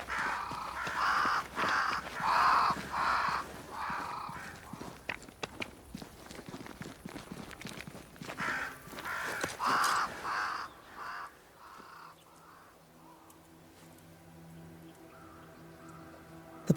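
Crows caw in bursts over footsteps within the fantasy game Banishers: Ghosts of New Eden, several harsh calls in the first ten seconds before the scene quiets to a low ambient hum.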